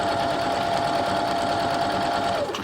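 A sewing machine runs continuously, stitching a border onto a quilt, with a steady close mechanical whir that slows and stops right at the end, with no talking.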